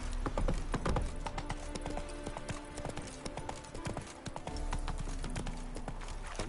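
Roach, a horse in The Witcher 3, trots with steady rapid clip-clop hoofbeats, close and fairly loud, over a game soundscape with music and ambience.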